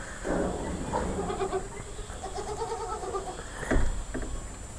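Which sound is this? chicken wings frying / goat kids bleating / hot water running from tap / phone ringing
goat kids bleating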